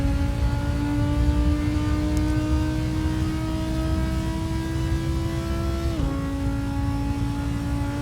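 An Audi R8 GT4 race car engine drones steadily through a lap of the Vallelunga circuit in the Assetto Corsa racing game, holding a sustained high rev tone with one quick gear shift partway through.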